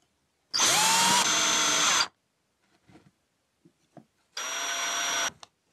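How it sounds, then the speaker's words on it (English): Dremel rotary tool with a small cutting disc cutting a steel knife lock bar: two loud, high whining bursts of grinding, each a second or more long, separated by a pause with small clicks and taps, close up. "For this, I use a small cutting disc from Dremel."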